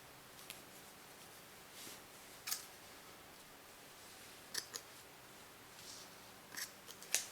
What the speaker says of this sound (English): then I'll cut this yarn